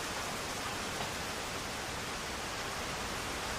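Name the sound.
rain falling outside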